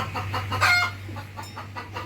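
A hen clucks close by after laying an egg, giving a short run of sharp, uneven clucks over a low steady hum.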